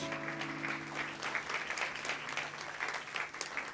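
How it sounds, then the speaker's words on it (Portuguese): A church congregation at a Sunday service in Cascais applauds, a sustained wash of many hands clapping at moderate distance, with a faint tone held underneath at the start. "vamos aplaudir Jesus pela vida do pastor Marcos"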